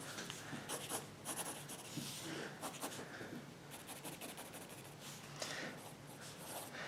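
A pencil scratches and sketches on paper up close, a faint, busy stream of short strokes and rubs with brief pauses between them and no talking.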